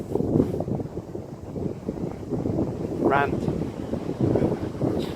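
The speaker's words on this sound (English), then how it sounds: "So here are the aforementioned trees being blown around." Wind sweeps through trees in a woodland near Broadhenbury, a gusty rushing roar that rises and falls over a few seconds and sits close to the microphone, with a brief spoken word partway through.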